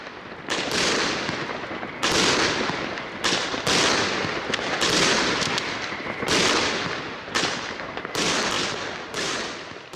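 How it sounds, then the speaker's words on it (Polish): Dense bursts of fireworks cracking and booming in rapid succession, loud and continuous, with brief gaps between volleys. "Nie każdy wie, że fajerwerki od 2000 lat fascynują ludzi na całym świecie."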